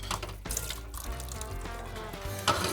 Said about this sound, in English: I'm going to put the water in there